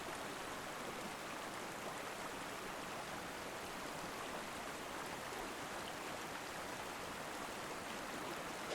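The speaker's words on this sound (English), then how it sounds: "So we're here on the bank of the Queen River" Steady broadband rush of the Queen River in Tasmania flowing past its bank, a continuous even wash of moving water with no talk.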